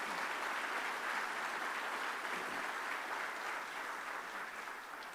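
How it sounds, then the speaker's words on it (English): Sustained audience applause in a hall at Roanoke's State of the City address, a dense, even wash of clapping that holds steady and tapers slightly near the end. "Let's give them a great round of applause."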